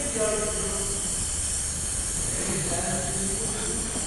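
A brazing torch roars steadily as it heats the lower copper tube of a joint, a loud continuous broadband hiss holding for about four seconds.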